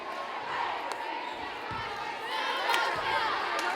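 A crowd at a color war basketball game cheers and chatters steadily in a gym, with sneaker squeaks and scattered shouts, all under a commentator's voice.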